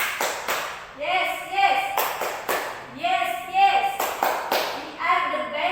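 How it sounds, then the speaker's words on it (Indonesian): Schoolchildren in an Islamic education class perform the tepuk semangat clapping cheer, rhythmic clusters of claps alternating with chanted voices in a repeating pattern, close and lively. "Yuk, kita sama-sama tepuk semangat."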